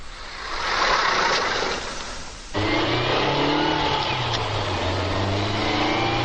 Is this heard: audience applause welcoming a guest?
no